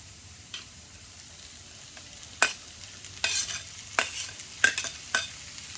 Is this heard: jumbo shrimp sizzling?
yes